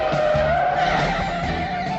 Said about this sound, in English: L56 in high-speed pursuit of suspect yellow Camaro